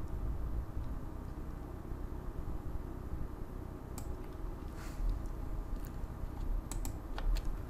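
A few faint key presses on a computer keyboard, used as a shortcut while editing motion paths in After Effects CC 2021, tap out sparsely over a steady background hiss with no talking.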